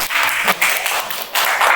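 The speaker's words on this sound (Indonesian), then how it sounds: "Boleh tepuk tangan buat temannya" Classmates applaud in a classroom, a steady patter of hand clapping with brief dips, fairly close and continuous for under two seconds.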